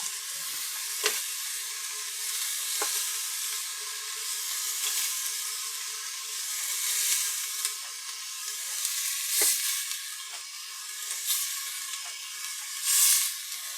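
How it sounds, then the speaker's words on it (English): Food sizzles steadily in hot oil in a frying pan, a continuous bright crackling hiss with occasional sharper pops, moderately close and alone without any voices. "Oh, I love that sizzle."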